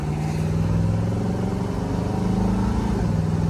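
A 1970 Oldsmobile 442 convertible with a Rocket 350 engine pulls on an open road, its steady engine note rising slightly in pitch as it accelerates, close and continuous.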